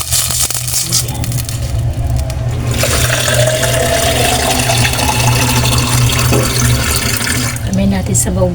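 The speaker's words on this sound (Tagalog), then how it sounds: "lagyan na natin ng tubig." Water pours steadily from a tap into a cooking pot for salmon head sinigang with crushed tomato, a continuous loud gushing splash that keeps up for several seconds before tapering off.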